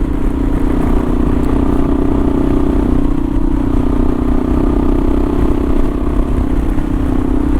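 A Kawasaki KLR650 dual-sport motorcycle cruising along a back road into town, its single-cylinder engine droning steadily and loudly up close with a constant rumble and wind noise throughout, no talking.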